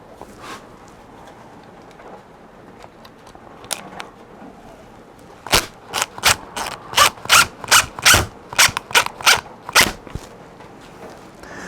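A power drill drives 2-inch screws at an angle into a wooden mobile base, sounding as a close series of about a dozen sharp, rapid ratcheting clicks in quick rhythm after a few seconds of near quiet.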